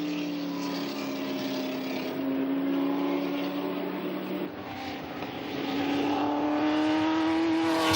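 A smoking Ford GT40 Mark IV race car, longer and sleeker than earlier models, roars steadily past on a racing circuit, its loud sustained engine note shifting in pitch as it passes.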